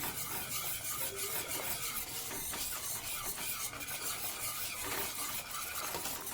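Continuous scraping and rubbing as a muskmelon ice cream mixture is stirred with a cup of sugar, a close, steady rasping texture with no voices.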